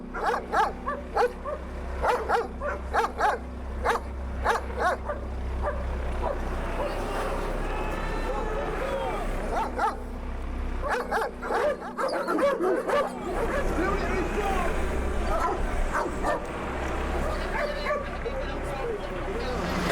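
Police dogs bark and yip repeatedly during a street clash with football hooligans, sharp barks in bursts over crowd hubbub, with people talking and shouting throughout.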